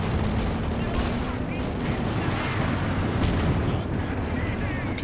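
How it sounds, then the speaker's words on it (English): Cluster bombs going off in a 2v2 match of the strategy game Company of Heroes 2, heard as a dense, continuous rumble of explosions and gunfire with no let-up. "Okay, cluster bombs."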